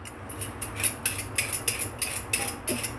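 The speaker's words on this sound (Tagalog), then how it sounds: "Ngayon guys, magbalat tayo ng carrots." Carrots being peeled for soup, a rapid series of crisp scraping strokes from a peeler, evenly rhythmic at about four per second, close and clear with no talking.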